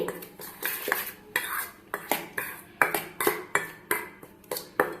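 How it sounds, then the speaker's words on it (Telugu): Rice flour and salt are stirred in a bowl with a metal spoon, giving rhythmic clinking scrapes against the dish, about a dozen even strokes, close and moderately quiet with no speech. "ఈ పిండి అంతా ఒకసారి అంతా కలిసేలాగైతే కలుపుకోవాలి"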